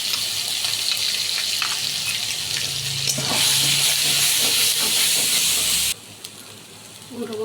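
Ground onion, ginger and garlic paste drops into a hot pan with cumin seeds, bursting into a loud, steady steam-laden sizzle that swells then cuts back to a quieter hiss near the end.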